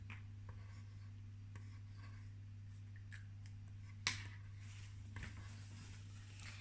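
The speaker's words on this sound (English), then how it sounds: "So let's write down the name Sonia inside the box." Pencil writing on paper during a homeschool lesson, a faint steady scratching and rubbing close by over a low electrical hum, with one louder tap partway through.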